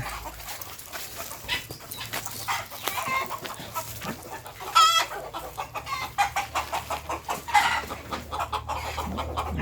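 Hens cluck in quick repeated bursts, with a rooster's louder calls mixed in as it chases them, close by and busy throughout.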